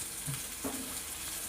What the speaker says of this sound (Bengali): আলু, কাঁচা লঙ্কা, টমেটো ভাজা হচ্ছে, নুন দিয়েছি।